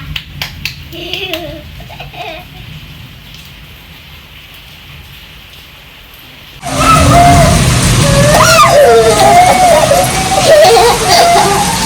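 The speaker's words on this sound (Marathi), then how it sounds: "हे बघा पाऊस खूप मोठा पडतो" Heavy monsoon rain in Pune starts suddenly partway through, a loud, dense hiss that swamps the quieter opening, with voices audible underneath.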